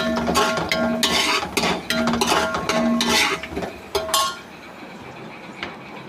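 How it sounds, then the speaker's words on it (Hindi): Whole garam masala spices (cloves, black pepper, cardamom) roast with onion in a pot, heard as a run of metallic clanks and scrapes of a spoon against the pot, loud and close, then quieting to a soft hiss. "अब इसमें गरम मसाला डाल देंगे, लौंग, काली मिर्च, सफ़ेद इलायची, प्याज के साथ इसको भून लेंगे।"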